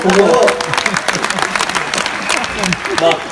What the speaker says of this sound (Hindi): एक बार तालियां बजा दें दोस्तों।